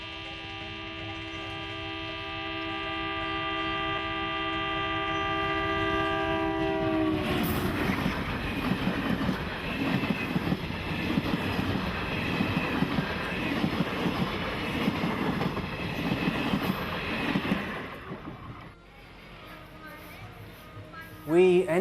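A passenger train arriving at Rameshwaram sounds a long, loud multi-tone horn for several seconds, then rumbles and clatters steadily along the track before the noise drops away, with voices faintly underneath.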